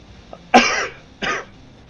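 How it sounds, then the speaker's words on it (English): A person coughs twice, close and loud, each cough a short harsh burst with a brief pause between them and quiet before and after. "Can't believe I still have a cough."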